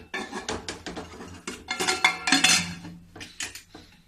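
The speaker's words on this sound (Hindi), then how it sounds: "अब ये कुकर के ढक्कन लगा दूंगी।" Metal lid of a pressure cooker set onto the pot while baking an eggless semolina and flour cake, producing a run of sharp clanks and clinks, close and moderately loud.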